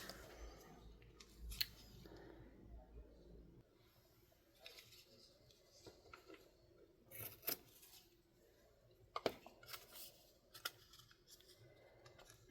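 Scissors snip the ends off a spring card in a handful of close, crisp cuts spread irregularly, with quiet rustling of paper between them and no talk.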